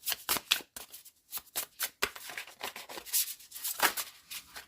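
Tarot cards shuffled by hand in a series of quick riffling bursts and soft slaps, close and fairly quiet, with brief pauses between runs and no talking.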